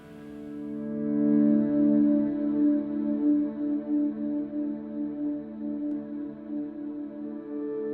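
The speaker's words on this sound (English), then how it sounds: "crank up my reverb, and we will record a loop" A looped guitar phrase run through a Line 6 HX Stomp with heavy reverb, swelling into a sustained, shimmering wash of tones that pulses gently and rings on without pause.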